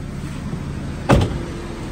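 The engine of a 2012 Toyota Innova runs at idle with the hood open as a steady low rumbling hum, broken by one short clunk near the middle, close by and with no talk.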